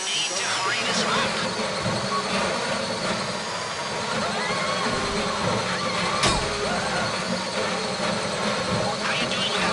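During a video game heist, a drill whines steadily with a dense mechanical drone, a continuous loud hum with faint clanks running through the whole stretch.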